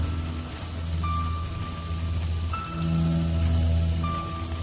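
Steady rain patters and drums on a surface, with low rumbling tones underneath and a few faint high pings, continuous throughout with no talking.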